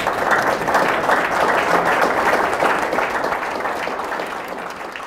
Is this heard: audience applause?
yes